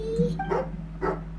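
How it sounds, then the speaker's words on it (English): A hunting dog in the video game Genshin Impact barks angrily, giving two or three short, close growling barks. "Angry doggy."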